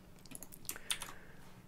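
Keys tapped on a computer keyboard while code is entered for a Pygame RPG tutorial, a short, faint, uneven burst of clicks with two slightly louder strikes midway, no voices.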